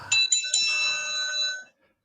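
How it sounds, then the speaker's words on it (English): A bright bell-like chime rings three quick strikes as an opening bell for a wrestling talk show, each leaving a ringing tone that fades out after about a second and a half, clear with no talk. "let's go ahead and hit that opening bell."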